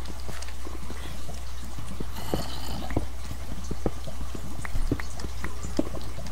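Footsteps in a Minecraft-like video game, a quick run of light, irregular steps over a steady low background hum, with a brief hiss partway through and no talk.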